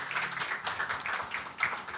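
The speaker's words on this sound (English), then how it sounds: "Please, a round of applause for her." Faint, distant audience applause at a panel discussion on parenting, a soft steady patter of clapping lasting about two seconds.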